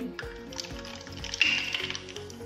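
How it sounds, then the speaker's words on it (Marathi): Mustard seeds sizzle and crackle in hot oil for a tempering while making rava vadas, a steady close frying hiss with faint pops, alone without talk. "तेल चांगलं गरम झालं, त्यामध्ये थोडी मोहरी"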